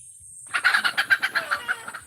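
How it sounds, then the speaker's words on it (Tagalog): A chicken clucks in a quick series of about a dozen short, fairly loud calls after a brief silence, nearby and with no voices. "Ayan, umiingay na naman yung manok."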